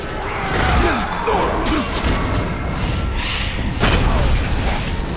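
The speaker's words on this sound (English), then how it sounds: "Explosion." An explosion booms in Shadow of Mordor, with heavy crashing impacts and rumbling debris over several seconds, mixed with grunting voices and combat noise.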